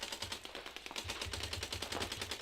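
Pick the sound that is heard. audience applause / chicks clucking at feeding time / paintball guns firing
paintball guns firing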